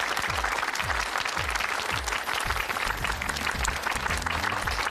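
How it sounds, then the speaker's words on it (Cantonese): Warm audience applause greets Cantonese lyricist Cheng Kwok-kong as he comes onstage at a Hong Kong children's TV show, a steady dense wash of clapping lasting throughout without talk. "咁我哋而家就俾熱烈嘅掌聲俾鄭國江老師"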